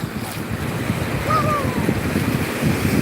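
Surf washes steadily onto a shallow, gently sloping beach at Ulee Lheue in Banda Aceh, a continuous broad rush mixed with wind buffeting the microphone, with a faint distant bird call briefly above it.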